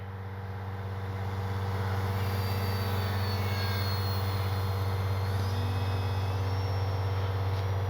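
An E-flite Timber SE radio-controlled airplane, a 10-year anniversary edition, flies at sunset, its electric motor giving a steady, even droning whine that holds at a constant level throughout with no talk.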